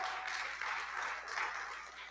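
A church congregation at a religious camp applauds, producing a steady, fairly faint wash of clapping that holds evenly throughout with no voices over it.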